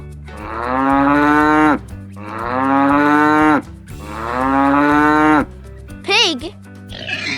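A cow gives three long, loud moos in a row, each drawn out and sliding down in pitch, followed by a brief higher call, all over soft background music.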